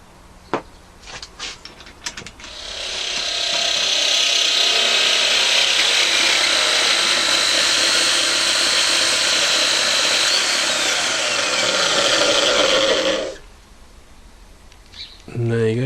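Grinder working the flat of a hardened knife blade, a loud sustained high grinding hiss lasting about ten seconds before cutting off abruptly, with faint clicks and handling noise before and after.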